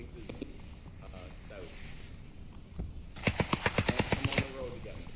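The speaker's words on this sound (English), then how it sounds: "I heard multiple bullets impact that body there." Gunfire and bullet impacts in the VR shooter Onward: quiet background at first, then a rapid burst of about ten sharp shots near the end, loud and evenly spaced.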